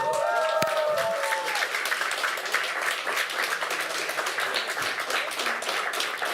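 Large crowd at a LAN esports event applauding and cheering before a Team USA versus Team Invictus match, dense continuous clapping and crowd noise filling the room, with a brief voice near the start.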